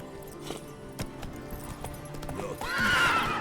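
Horse hooves clop in an uneven rhythm in The Witcher 3: Wild Hunt, then a horse whinnies loudly near the end, with a faint voice in the background.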